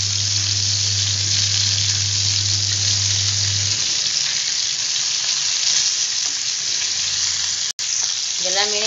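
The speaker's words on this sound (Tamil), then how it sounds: "இப்போ மீன் போட்டு பொரிச்சுக்கலாம்" Fish frying in hot oil, a loud, constant close-up sizzle and crackle that fills the whole stretch, with a low hum fading early and a brief knock near the end.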